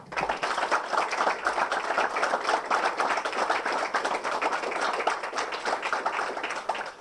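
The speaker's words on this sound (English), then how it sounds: "And can we just do one big round of applause for them?" A talk-show audience gives one big round of applause, dense steady clapping from many hands for about seven seconds, loud and close with no talk over it.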